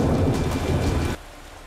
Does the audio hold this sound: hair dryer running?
no